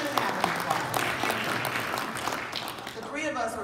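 Applause at a mayors' gathering, with crisp individual claps under and alongside talk, tapering off as a voice speaks toward the end.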